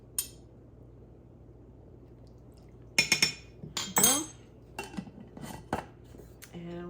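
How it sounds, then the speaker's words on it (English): A spoon stirs two tablespoons of milk into cheese powder in a pot, heard as a few sharp, close metallic clinks and scrapes in quick clusters after a quiet start, with no voices. "And we're just gonna give that a stir."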